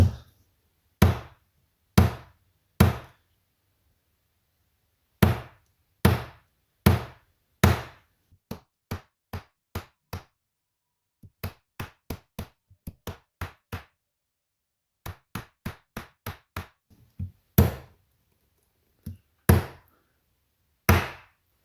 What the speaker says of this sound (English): Here's some more of that electrical wire. Just gonna take a few kind of whacks at it.